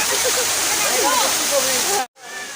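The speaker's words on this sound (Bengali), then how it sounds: "এই যে ঝর্ণা, এই গভীর কতটুক" The water of a park fountain at Cafe 24 Park in Chattogram makes a loud, continuous splashing rush. Voices talk over it, and the sound cuts out briefly near the end.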